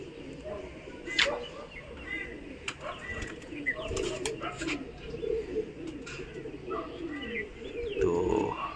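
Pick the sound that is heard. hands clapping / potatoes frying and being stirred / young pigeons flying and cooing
young pigeons flying and cooing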